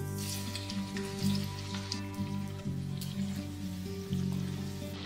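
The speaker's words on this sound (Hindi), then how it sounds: "इसके बाद मैं इसमें गाजर फ्राई करके निकाल लूंगी" Carrots frying in hot oil in a wok for a halwai-style mixed vegetable sabzi, a steady close sizzle and crackle with no talking.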